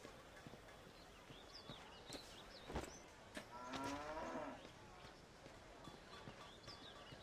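Cattle tipped over in a fantasy role-playing game, The Bard's Tale, let out one low, drawn-out moo amid faint clopping and scattered game sounds.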